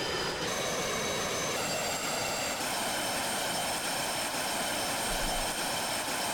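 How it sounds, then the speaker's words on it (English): An airplane taking off in the Roblox video game gives a loud, continuous engine roar with a whining high tone that rises in steps and holds steady throughout. "Go, my plane, go!"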